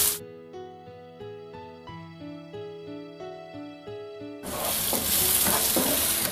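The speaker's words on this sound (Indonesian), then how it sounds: "Sisakan sedikit minyak tumis bawang putih dan bawang merah." Gentle instrumental music plays, then cuts to loud, close sizzling as garlic and shallots fry in hot oil.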